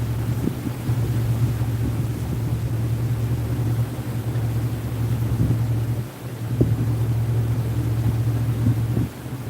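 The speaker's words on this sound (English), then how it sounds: "Trying to get this engine adjusted just right." A boat engine runs steadily while being adjusted on a trip toward Southport, North Carolina, a loud constant low drone with a brief dip near the middle, no voices.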